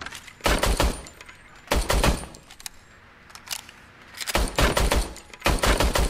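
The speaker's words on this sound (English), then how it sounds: "Shooting." Loud bursts of rapid gunfire from the video game RoboCop: Rogue City come in three separate volleys with brief quieter gaps between them, close and harsh.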